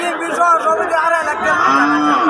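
Cattle at a livestock market in Dharmapasha Upazila, Bangladesh, with a loud, drawn-out moo close by over a background murmur of the crowd.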